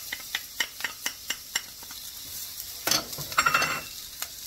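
Garlic drops into onion frying in a pan, sending up a rhythmic series of scraping stirs followed by a burst of hot sizzling, close and fairly loud with no talking.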